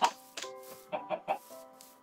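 Chickens on a Minecraft farm cluck in a quick series of short, close calls, about seven clipped bursts with brief pauses, heard alone without talk.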